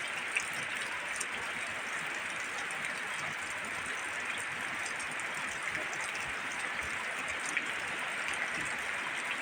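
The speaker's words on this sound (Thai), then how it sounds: "ฝนโปรยปลายด้วยกันนะคะเพื่อนๆ" Light rain patters steadily onto a garden pond, a continuous soft hiss with faint drips, no voices.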